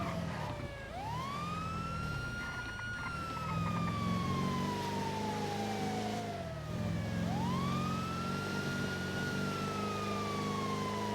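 A police car siren in GTA V on the NoPixel server wails in long rising and falling sweeps over a low engine rumble, loud and continuous, with no talking.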